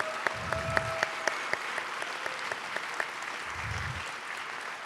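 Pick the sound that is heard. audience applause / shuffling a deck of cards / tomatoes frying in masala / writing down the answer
audience applause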